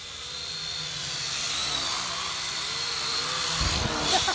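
High-pitched buzzing whine of a small drone flying low near the ground, continuous and fairly close, with a brief louder burst near the end.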